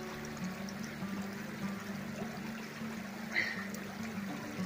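A forest stream flows steadily in a faint, continuous wash of trickling water, heard at a distance with no talk and a brief rustle near the end.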